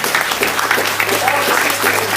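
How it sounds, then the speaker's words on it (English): Clapping from an audience at a Black History Month event, steady and fairly loud, with a low hum running underneath and a voice faintly audible behind it. "please give them a round of applause"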